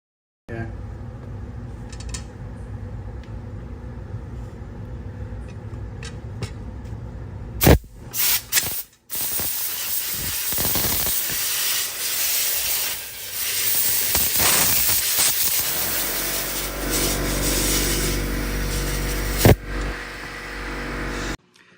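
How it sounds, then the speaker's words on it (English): Compressed air blasted through a Suzuki Katana motorcycle brake caliper to force out its pistons: quieter mechanical rattling first, then a loud, sustained rushing hiss of air that lasts for over ten seconds with brief interruptions. "Literally just blow air through it and try to cover up the holes that you can."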